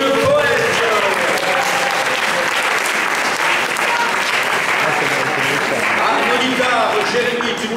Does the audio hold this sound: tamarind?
no